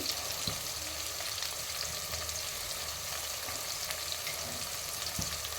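Onions frying in oil with salt, giving a dense, continuous crackling sizzle that stays even throughout, with a couple of faint stirring knocks; close and quiet, no voices.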